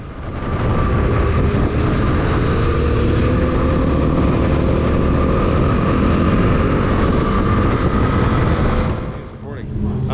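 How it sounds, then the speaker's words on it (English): A racing motorcycle hauls down the front straight at Thompson Speedway, its engine a loud, steady, close roar held at high revs with other bikes nearby, easing off briefly near the end. "I haul down the front straight and arrive at turn 1 having caught up to a line of 8 bikes ahead of me"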